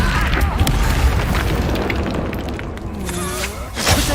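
A fire spell blast in the Hogwarts Legacy video game: a loud, dense burst of explosive rumble and crackle that fills the whole clip, swelling again near the end, with game combat noise layered over it.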